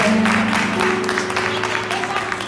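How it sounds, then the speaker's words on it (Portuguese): A church congregation applauds during a Holy Communion service, broad sustained clapping from many hands beneath a sung or spoken voice and a held musical tone. "Vamos aplaudir o Senhor, glória a Deus."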